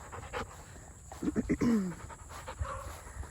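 A dog pants rapidly after an off-lead training session, quick breathy huffs building to a short whimpering whine, close by with light background noise.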